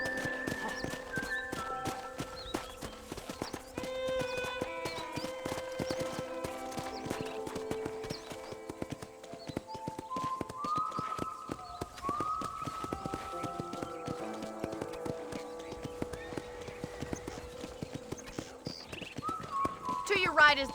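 Horse hooves clip-clopping at a run in Red Dead Redemption 2, steady rhythmic hoofbeats under a music bed with a man calling out to the horse.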